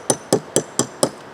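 A hammer taps a steel wheel weight five times in a quick, even rhythm, each strike a bright, close metallic clink that rings only briefly.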